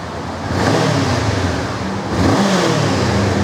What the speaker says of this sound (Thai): มาเบิ้ลเครื่องให้ฟังนะคะ